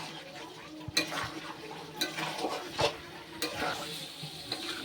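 Mutton curry is stir-fried in a pan, with a soft steady sizzle under repeated scraping and clattering strokes of a spatula against the metal, fairly close and moderately quiet.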